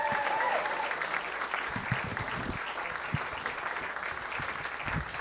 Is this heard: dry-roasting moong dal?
no